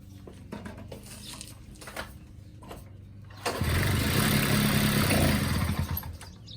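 Peugeot 103 S moped with a two-stroke engine, heard as a few faint mechanical taps that give way to the engine firing up into a loud, buzzing, steady run close by.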